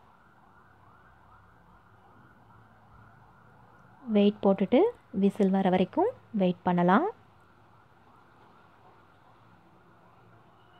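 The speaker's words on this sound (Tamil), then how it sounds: "பேக்ரவுண்டில் ஆம்புலன்ஸ் சவுண்ட் கேட்குது." A distant ambulance siren wails continuously in the background while a person talks briefly in the middle, in a home kitchen while mint rice cooks in a pressure cooker.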